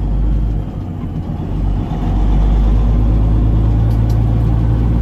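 Farm truck rolling along a road on the way to the grain bins, heard from inside the cab as a steady loud low engine drone and road rumble with no talk.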